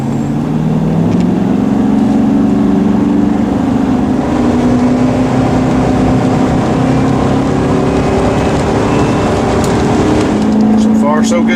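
A 2007 Chevy 2500HD pickup engine drones under throttle while climbing a hill, a steady loud cabin hum with a gently rising pitch.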